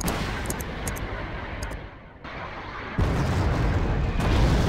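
Artillery fire in the real-time strategy game Wargame: Red Dragon, set in a Second Korean War scenario, rolls on as a dense, continuous rumble of booms and blasts that swells louder toward the end, with no voices over it.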